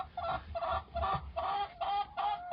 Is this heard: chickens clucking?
yes